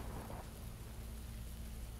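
Rain falls steadily in the PUBG video game, a soft, constant hiss of wash with no distinct drops or voices, faint and even throughout.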